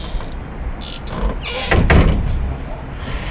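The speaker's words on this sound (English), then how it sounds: "Close the door at the entrance." A door at a house entrance is pushed shut, a short sliding rumble followed by a heavier thud near the middle, with a faint background hum around it.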